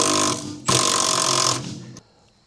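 Power tool buzzing loudly in two sustained bursts, removing the 9/16 bolts that hold the steering box to the body of a 1967 Volvo, then cutting off into near silence.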